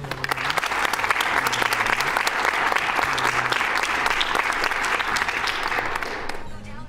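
Sustained audience applause at a live charity speedrun marathon, dense steady clapping for several seconds, loud and continuous, with a speaking voice faintly underneath.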